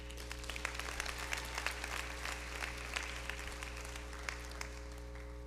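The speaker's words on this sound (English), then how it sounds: "you owe yourself a round of applause" An audience at a law school hooding ceremony claps steadily, a quiet, distant patter of applause over a constant electrical hum.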